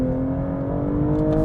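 A 2022 BMW M240i engine revs hard and loud under manual shifting, a steady throaty drone with rising tonal whine filling the cabin, no pause.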